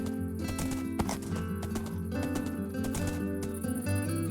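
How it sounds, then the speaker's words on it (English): A horse in the Minecraft video game clip-clops in quick rhythmic hoof steps, with occasional snorts over a busy game soundtrack of plucked tones, fairly loud and close. "Such a handsome horse."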